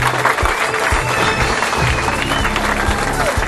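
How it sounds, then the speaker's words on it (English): Crowd applause at a mayoral campaign kickoff in Southfield, steady and loud throughout, with cheering voices mixed into the clapping. "another round of applause for the current, and the future mayor of Southfield, Brenda L. Lauren"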